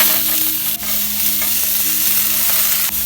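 Chopped green pepper, mushroom and banana peppers sizzle loudly and steadily in a frying pan, with occasional sharp clicks of stirring cutting through the constant crackle at close range.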